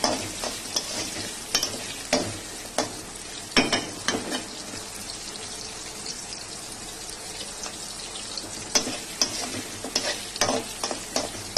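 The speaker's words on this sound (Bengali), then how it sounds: "পেঁয়াজগুলো তো ভাজা ভাজা, হালকা ভাজা হবে।" Onions lightly frying in a home kitchen pan, a steady soft sizzle broken by irregular clinks and scrapes of a spoon stirring, close and moderately loud, with no talking.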